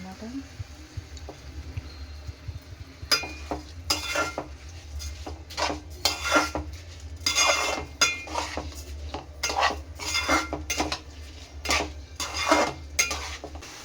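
A spoon stirs washed rice into chicken pulao in a metal pot, with bursts of scraping and clinking against the pot over a low kitchen hum; a voice talks at points.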